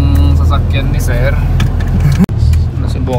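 The owner's car, which lacks power steering, runs at a steady engine drone from inside the cabin, with a brief dropout and people talking over the noise.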